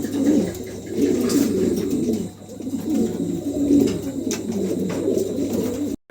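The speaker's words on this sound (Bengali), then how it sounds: "ফিমেলটা ডাকতেছে" A female King pigeon, one of a pair, calls with a steady run of low, throaty coos, close by and fairly loud, continuing through most of the stretch with only a brief dip near the end.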